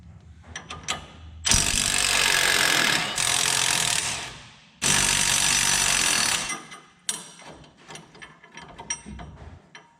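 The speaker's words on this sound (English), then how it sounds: "We're going to have to remove these bolts." A ratchet loosening 15 mm bolts on the steering stabilizer of a heavy-duty Dodge Ram 2500/3500. It gives close, quick clicking, then two long loud bursts of whirring, then more scattered clicks and knocks.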